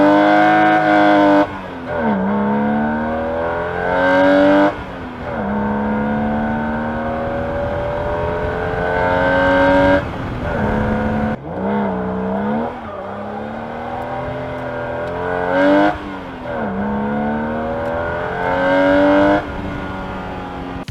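BMW E36 M3 engine revving hard through repeated upshifts, each gear climbing in pitch before dropping at the shift, loud and close, with a short tire squeal; no talking.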